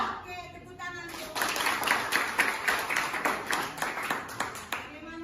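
A classroom group claps for presenters, brisk clapping that starts after a short bit of talk and continues as a lively rattle, with a voice heard over it.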